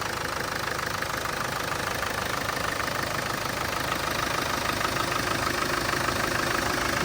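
A 1997 Land Rover Defender 90 with a 300 TDI diesel engine idling, a steady close chugging clatter with an even rhythmic knock, continuous and unchanging with no voices.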